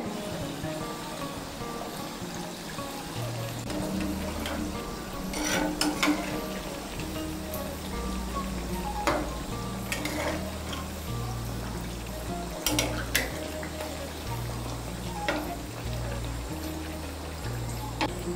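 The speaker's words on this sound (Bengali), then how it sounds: "আঁচটাকে একদম কমিয়ে মিষ্টিগুলোকে ভেজে নিতে হবে।" Sarbhaja sweets fry gently in oil over a low flame, giving a steady, soft sizzle throughout with a few sharper crackles and pops rising above it.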